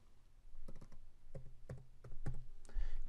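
Someone types on a computer keyboard up close, entering a host URL, ID number and password in a series of crisp, irregular key taps, alone and without talk.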